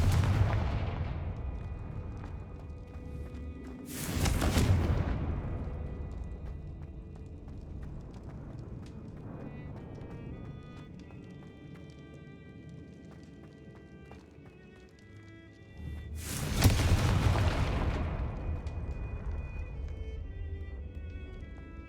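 Confringo fire spell blasts in the Hogwarts Legacy video game, two heavy booming explosions several seconds apart with long rumbling decay over quiet game ambience.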